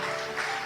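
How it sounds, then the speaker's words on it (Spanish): Church congregation applauding, a dense, steady wash of many hands clapping together throughout, loud and close with no pauses. "Denle un aplauso al Señor."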